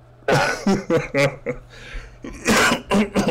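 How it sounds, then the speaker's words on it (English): A voice talks briefly, then a cluster of rough, close coughs follows in quick bursts. "I got a bad cough, man, lately"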